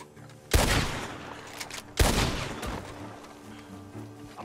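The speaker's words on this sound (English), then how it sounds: "Some really good shots from that barn." Gunfire from a barn in Red Dead Redemption 2, two loud sharp reports about a second and a half apart, each trailing off into a booming echo, with faint background noise between and no speech.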